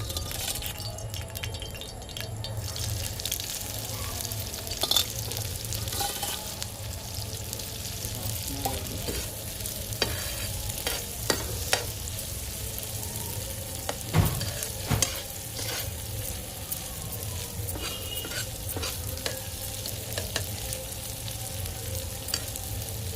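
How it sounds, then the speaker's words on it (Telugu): Prawns lightly seasoned with salt and chili powder fry on a flat pan, a continuous sizzle with occasional faint clinks and scrapes scattered throughout, steady and close. "అది పెనం మీద పెట్టి ఫ్రై చేద్దాం"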